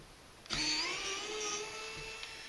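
A LIFEGOO electric screwdriver at torque setting 3 whirs up sharply and runs steadily for about two seconds, its motor pitch gliding slightly as the screw backs out, then cuts off; close and fairly loud with no talking.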